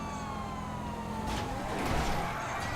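A police siren in the GTA 5 video game wails with rising and falling tones over a low rumble of traffic, moderately loud and continuous.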